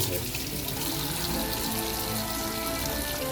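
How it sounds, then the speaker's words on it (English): Steady running cold tap water pours continuously into a sink as hands are washed, a constant broadband splash with no talking. "just wash our hands with cold water"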